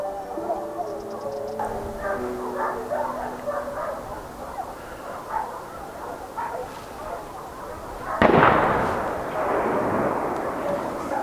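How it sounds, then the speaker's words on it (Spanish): Gunshots crack and echo across the sierra during a Spanish montería hunt at El Aguazal, with dogs barking in the distance and a loud burst of reports near the end. "Los primeros disparos tardan poco en resonar por la sierra."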